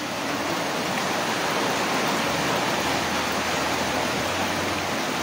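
Floodwater surges along a swollen river in an unbroken, full-bodied roar that stays loud and even throughout, with nobody speaking.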